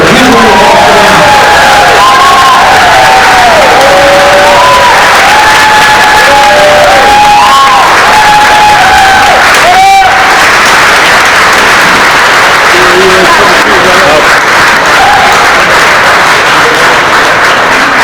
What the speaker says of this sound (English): Huge round of applause for them.